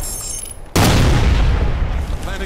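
A frag grenade detonates in Ghost Recon Future Soldier, a sudden loud booming blast after a moment of quieter game ambience, with a heavy rumbling tail that fills the rest of the moment.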